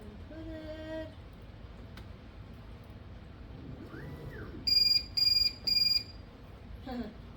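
A machine cutting a circuit board gives out three loud, evenly spaced electronic beeps in quick succession, with fainter tonal chirps and a rising-falling whine earlier over a low background rumble.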